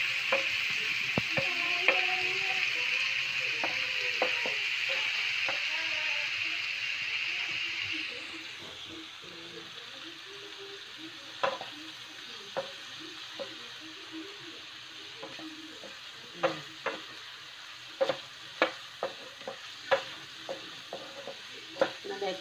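Green beans and other vegetables stirred and frying in a breakfast pan with a little meat: a steady loud sizzle for the first several seconds, then quieter frying with sharp clinks and scrapes of a utensil stirring at irregular intervals.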